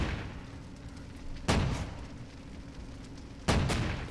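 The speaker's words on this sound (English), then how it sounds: "But our AT gun can definitely get rid of these tanks." An anti-tank gun fires two heavy booming shots at IS-2 tanks in a wartime video game, about two seconds apart, over a constant rumble of battle noise.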